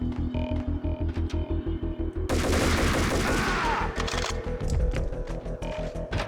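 Gunfire in Max Payne, a dense burst of loud overlapping shots cutting in midway over a steady rhythmic mechanical thumping, with scattered sharp cracks trailing off afterward.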